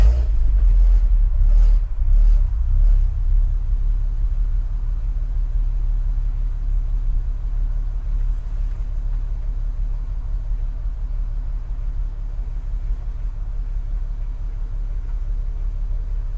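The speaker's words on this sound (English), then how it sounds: "a good sound clip to give you an idea of the noise of the R32 on a well, it's warm start up now" A warm Volkswagen Mk5 Golf R32 engine starts and settles into a steady, deep idle, a low continuous rumble close by with a slight flutter, with no talk over it.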